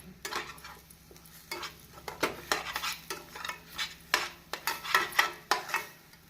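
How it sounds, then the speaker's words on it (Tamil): A spoon stirs egg, tomato and bread slices together in a pan over medium heat, making repeated close scraping and clinking strokes in an irregular rhythm, with a faint sizzle underneath and no talking. "பிரெட் ஸ்லைஸ் போட்டு நாம் மிதமான தீயில் வைத்து ஒன்றாக மெதுவாக கலந்து விட வேண்டும்"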